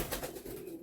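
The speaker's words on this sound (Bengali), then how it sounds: "লাস্ট আরেকটি ফিমেল মাদা পায়রা, গিরিবাজ পায়রা দেখুন, সাদা গিরিবাজ পায়রা" A white female giribaz pigeon cooing at close range, a short low soft coo that is quiet and brief, with no talk over it.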